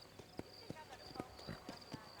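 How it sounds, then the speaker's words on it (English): Horse hooves clip-clopping in the video game Red Dead Redemption, a steady walking rhythm of close, distinct hoof strikes about four per second, with a faint high tone and low game sound beneath. "Mount the horse."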